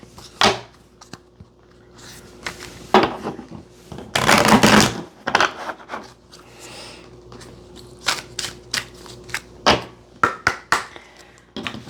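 Tarot cards being shuffled by hand, a run of crisp riffling bursts and soft slaps with one longer dense flurry in the middle, close and fairly quiet with no talking.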